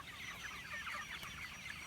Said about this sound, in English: And the hens are doing good.